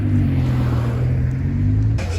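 An Audi R8 V10 engine revs with a deep, steady rumble and rising tone, loud and close at a car meet, then shifts abruptly near the end.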